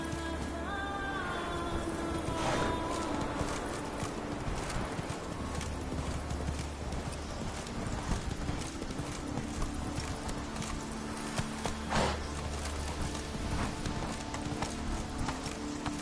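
Roach the horse gallops in a video game, a steady rapid clip-clop of hooves on hard ground with a short whinny, close and continuous under game music and ambience.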